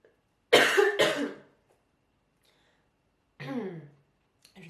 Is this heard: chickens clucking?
no